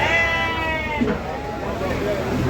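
Lambs bleat in short wavering cries amid a steady farmyard hum at a sheep market in Beylagan, Azerbaijan, while someone talks over them.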